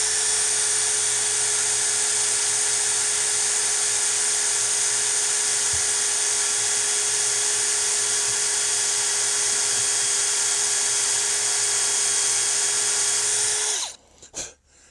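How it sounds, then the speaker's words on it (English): A drill bores steadily into the metal barrel band of a Mauser 71/84 rifle, one loud, unbroken high whine lasting most of the time before it stops abruptly, followed by a couple of brief clanks. "I intend to drill this hole"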